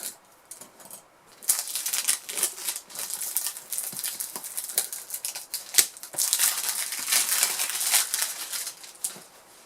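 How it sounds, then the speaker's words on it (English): Cellophane wrapping is torn and peeled off the box of an Eleaf iStick 100W vape device, a close, irregular series of crisp crinkles and crackles with brief pauses. "So the Istick 100W box is cellophane sealed, so let's open that now"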